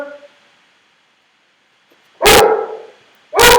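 A teacher's dog lets out two loud, close barks a second apart after a near-silent pause, with faint murmuring at the very start.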